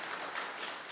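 Congregation applause at a Korean Presbyterian church's Sunday service in New Jersey, a brief, dense, even clapping that holds steady throughout without voices on top.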